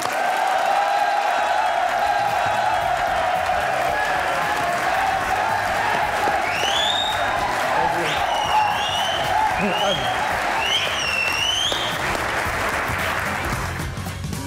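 A studio audience claps steadily to welcome Pakistani actor Ahsan Khan onto the talk show Haarna Mana Hai, with dense, sustained applause and scattered whistles rising through the middle before it tapers off at the end.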